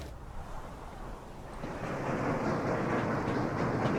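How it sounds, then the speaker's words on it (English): A train in a video game rolls between stations, a steady rumbling clatter that swells louder and fuller after the first couple of seconds, with no voices. "let me run the game at 1 speed so we can watch the train move from one station to the other station"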